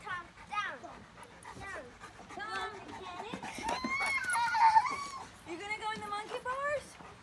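A Cane Corso dog at a playground whimpers and yips repeatedly in high, wavering whines, close by, while people talk throughout.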